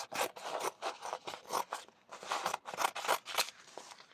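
Scissors snip through aged canvas fabric in a quick series of crisp, rasping cuts, about a dozen in rhythm, close and clear with no talk.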